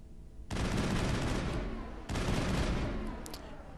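Sustained automatic gunfire rips through the CIC in the video game Mass Effect in two long, loud bursts, with a brief pause between them and no talking.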